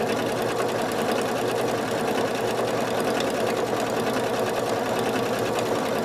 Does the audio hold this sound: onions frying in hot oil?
no